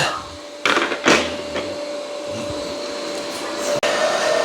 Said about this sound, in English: How's the Roborock doing since I emptied it and cleaned the filter? A lot better. He's actually vacuuming again.